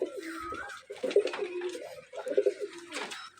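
Pakistani golden pigeons coo nearby in soft, rolling, throaty phrases that repeat across the stretch, with no talk.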